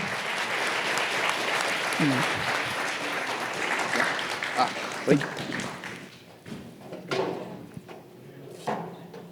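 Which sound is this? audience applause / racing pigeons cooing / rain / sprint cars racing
audience applause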